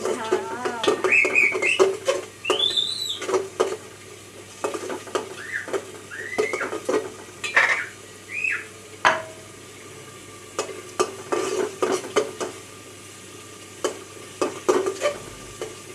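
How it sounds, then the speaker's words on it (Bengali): Spices frying and being stirred in a pot for biryani: continuous sizzling under repeated scraping and clattering of a utensil against the pot, with scattered high squeaks throughout. "মশলাটা ভালো করে কষিয়ে নিচ্ছি যাতে গন্ধটা না আসে"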